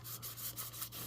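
Soft, steady rubbing of a cloth with rubbing alcohol on a part of a Nintendo Entertainment System console, close and quiet, with a rhythmic back-and-forth scrubbing texture over a low hum.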